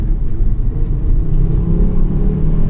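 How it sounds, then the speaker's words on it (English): A 2004 Volvo S60R engine at full throttle drones and rumbles steadily under load, a continuous loud low roar with a faint whir, no voices. "That was full throttle right there."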